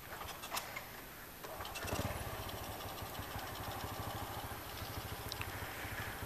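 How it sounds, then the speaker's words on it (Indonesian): A motorcycle engine with an open air filter idles steadily at close range with a rapid, even putter, faint and unaccompanied by voices. "wes tak nyalain sih mesin ini."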